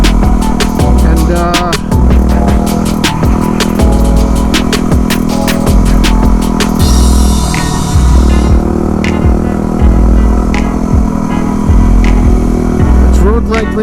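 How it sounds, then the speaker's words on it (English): Yamaha WR250R supermoto fitted with an Athena big bore kit riding winding Calaveras Road twisties, a loud continuous engine drone under heavy wind buffeting, with pulsing shifts in pitch as it rolls through the bends. "I've been riding my Supermoto a lot. My WR2R2R Supermoto with the Athena big bore kit."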